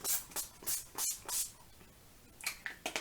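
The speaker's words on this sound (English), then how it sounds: "I'm going to take my Old Faithful, my Urban Decay All Nighter Setting Spray" Several short, breathy hisses of an Urban Decay All Nighter setting spray bottle misting onto a face in quick bursts, close by, followed by a pause and a few lighter sprays.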